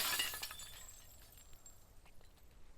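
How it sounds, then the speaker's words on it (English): Glass breaks in a video game as a window is smashed during a break-in, a sharp bright crash at the start followed by small tinkling pieces and faint crackling that fade away. "Not just the initial glass shattering,"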